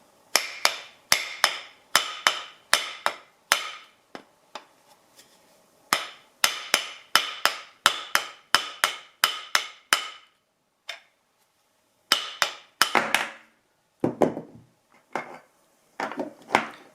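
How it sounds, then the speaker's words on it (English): Quick bursts of sharp hammer taps on the steel blade of a small Japanese leather plane, loud and close, with short pauses between the runs. "I'm going to hit the part with a hammer."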